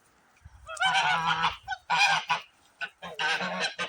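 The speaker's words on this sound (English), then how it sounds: "And those are the dewlap geese." Several loud, nasal honks from dewlap geese come in quick bursts, close and harsh, with short pauses between the calls.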